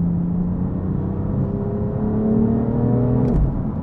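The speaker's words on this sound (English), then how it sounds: "oh, those gear shifts" A BMW M4 engine drones and climbs in pitch under acceleration, with a sharp DCT gear shift cutting in and dropping the revs, heard from inside the car.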